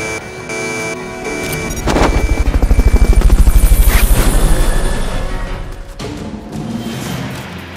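In the video game Metal Gear Solid Peace Walker, a Fulton recovery helicopter approaches with loud, rapid rotor chopping that swells to a close peak and then fades away, over a low hum, with no voices.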